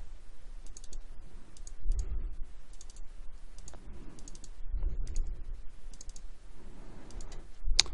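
Mouse buttons clicking at a computer while setting up TC-08 data logger software, with sharp, light, close clicks in loose clusters, including double clicks, over a faint steady background hum.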